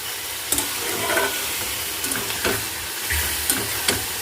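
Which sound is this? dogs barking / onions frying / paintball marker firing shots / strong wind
onions frying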